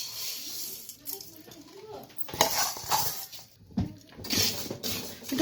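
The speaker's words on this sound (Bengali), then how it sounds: "তো প্রথমে কালার ডালটা আমি ভেজে নিই" Kalai dal lentils fry in a pan for a chital fish head dal, giving a light stirring rattle with scattered clinks of utensil against metal, heard close and intermittent beneath speech.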